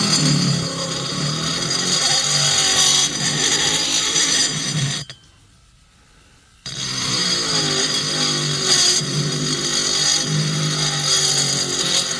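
A small rotary grinder whines steadily and close up while porting the cylinder of a Stihl MS460 chainsaw, cutting out for about a second and a half midway before resuming.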